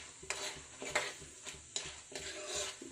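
Green chillies and tomato pieces frying in a pan, with soft sizzling broken by several bursts of stirring and scraping at an even rhythm, close and moderately quiet.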